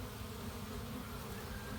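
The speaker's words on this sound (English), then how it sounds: "We are watching the honeybee workers, the forager bees, returning from foraging, and also bees leaving to forage" Honeybee foragers buzz at a hive entrance as workers come and go, giving a dense, continuous hum of many bees close by, steady and unbroken throughout.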